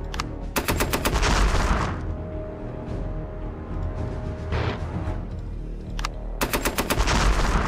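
Rapid machine-gun bursts in the Panzer Tactics HD war game, with anti-aircraft fire shooting down bombers: loud clustered rattling volleys at the start and end, a quieter burst in the middle, over a steady rumbling battle backdrop.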